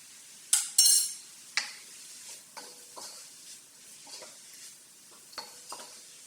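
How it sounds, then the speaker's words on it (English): Meat pie filling sautéed in butter in a pan, a utensil scraping and tapping in irregular strokes with a couple of sharp metallic clinks early on, over a faint sizzle, close and otherwise quiet. "So I'm just going to saute for just a little bit."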